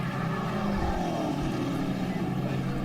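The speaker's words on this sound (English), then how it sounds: "You can really hear the cars decelerating. You can hear the downshifts" Race cars in a ChampCar endurance race at Watkins Glen slow into a corner, a steady broadband engine roar with shifting tones as they decelerate and downshift, loud and continuous throughout.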